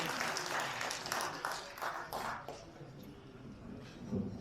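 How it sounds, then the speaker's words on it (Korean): Applause from a lecture audience at a talk on psychiatry, a broad wash of clapping that starts dense and gradually thins and fades, with faint voices underneath. "다시 한번 최윤희님한테 박수 부탁드리겠습니다"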